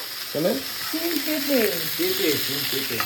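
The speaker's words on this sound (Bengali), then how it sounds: "কালো জিরে ফোড়ন দিয়েছো শুকনো লঙ্কা" Black cumin seeds and dried chilies tempering in hot oil, a steady, close sizzle and crackle with voices talking over it throughout.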